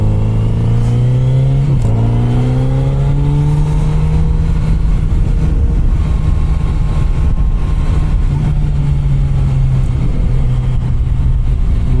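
Kawasaki motorcycle engine revving loudly on the winding Apache Trail mountain road in Arizona, a steady close drone whose pitch climbs and dips as the throttle rises, with wind noise throughout and no talk.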